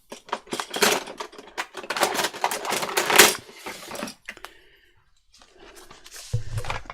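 Paper is torn against a tearing ruler, a close crackling rip in several bursts over the first few seconds, then quieter rustling and handling.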